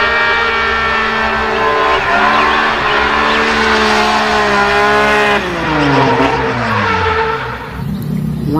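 Toy race car sound effect: a loud, continuous synthetic engine whine with a steady harmonic drone that rises and bends in pitch near the end, like a car revving and accelerating, with no talking over it.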